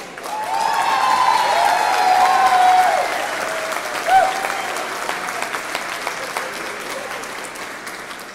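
A political rally crowd claps in a straw poll for a Senate candidate, strong applause mixed with whistles and cheering voices that swells early, then gradually thins and fades toward the end.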